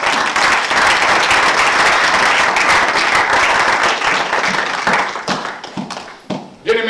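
A church congregation claps loudly in a dense burst that carries for about five seconds, then thins into scattered individual claps and fades, with a brief voice near the end.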